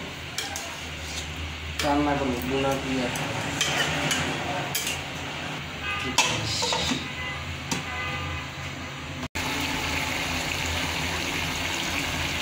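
Hilsa fish with radish cooking in a pan, with stirring, clinking utensils and bubbling liquid heard under a person talking, then a brief cut and a steadier simmer.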